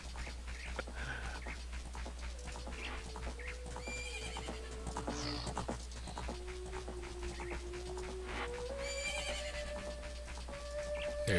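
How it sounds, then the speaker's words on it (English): A horse whinnies and its hooves clip-clop in the video game The Legend of Zelda: Ocarina of Time Master Quest, with rising neighs over a steady low game hum and light rhythmic hoofbeats. "There's your horse."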